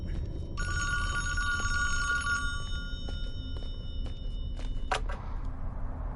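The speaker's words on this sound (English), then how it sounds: "We hear a phone ringing." Telephone bell ringing in the video game Friday the 13th, a bright sustained ring heard clearly over a low background rumble, followed by a short sharp sound before it fades.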